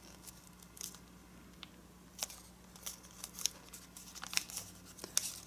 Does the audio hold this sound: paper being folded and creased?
yes